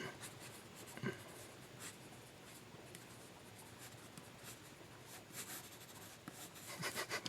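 Pencil or pen sketching quickly on paper during a timed speed-drawing challenge, a faint continuous scratching and rubbing with short, busier strokes near the end.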